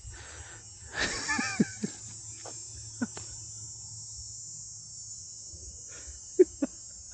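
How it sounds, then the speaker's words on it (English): A cicada buzzes in a steady, unbroken high drone that carries evenly throughout, with a brief voice and a few soft knocks underneath. "oh, hear that sound? It's a cicada."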